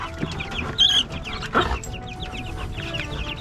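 Chickens, including Brahma and turtleneck breeds, cluck and call close by in a farmyard, with a rooster-like squawk breaking through the steady chatter.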